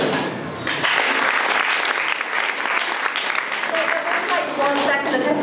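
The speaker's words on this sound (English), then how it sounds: "I want you to clap for me" Enthusiastic audience clapping at a science talk on misinformation and disease, swelling quickly into a full, even round of applause that stays strong to the end.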